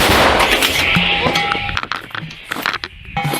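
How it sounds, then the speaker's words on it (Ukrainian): A heavy blast from a 152 mm artillery gun opens the clip and rolls off into a rumbling decay, followed by scattered clanks and faint tonal sounds. "Постріл! Постріл! Гармата!"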